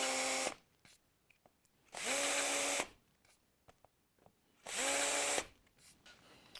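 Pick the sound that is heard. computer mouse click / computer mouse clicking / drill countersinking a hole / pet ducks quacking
drill countersinking a hole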